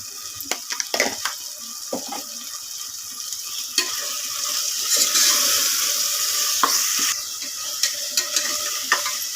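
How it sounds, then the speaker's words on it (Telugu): Tomatoes frying in a pan for chicken biryani, a continuous sizzle broken by scraping stirs and clinks of a spoon against the pan, close and fairly loud with no talking. "టమాటాలు తొందరగా వేగాలంటే కొద్దిగా సాల్ట్ వేసుకోవాలి కదా"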